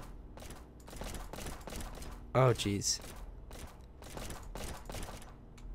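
Rapid gunfire in the Flashing Lights police simulator game, a steady run of sharp repeated shots throughout, with a voice breaking in with a loud exclamation partway through.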